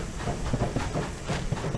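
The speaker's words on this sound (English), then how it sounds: "Just let the train pass." Steam train passing in the Heat Old West game, a steady close rumble of wheels with rhythmic clickety-clack beats and hissing throughout.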